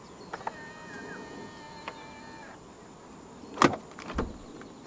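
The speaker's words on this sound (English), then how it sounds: "To lock the car, press the indented area on any of the 4 door handles." A 2024 Volvo XC60 Recharge T8 AWD Plus locks when the door handle is touched, giving a short electronic chirp and faint whirring, then a brief close mechanical clunk of the latches, with no talking.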